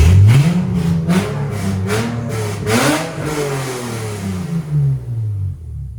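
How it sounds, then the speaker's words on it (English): A BMW E46 car engine with aftermarket headers revs loudly a couple of times, pitch rising and falling, then settles back toward idle before fading out. "I'm gonna give you a couple revs to end out this video."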